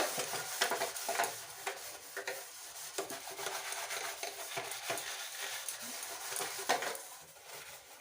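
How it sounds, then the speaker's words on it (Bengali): Steel wire scrubbed hard against a dirty gas stove, a continuous gritty rasping made of quick back-and-forth strokes, close and fairly loud, with no voices. "গ্যাসটা আজকে ভালো করে তার দিয়ে ঘষে পরিষ্কার করে নেব।"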